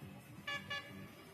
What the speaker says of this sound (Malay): Bunyi horn. Jaga-jaga, Ada kereta yang banyak.